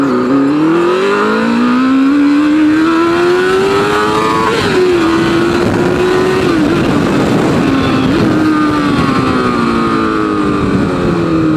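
A Honda Hornet motorcycle accelerates hard nearby. The engine note climbs through the revs in a loud, continuous roar and dips briefly between gear shifts.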